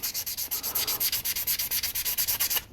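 Steady rhythmic sanding of a resin figure part, about twenty quick back-and-forth strokes of abrasive on a hard surface, close and fairly loud, then it stops.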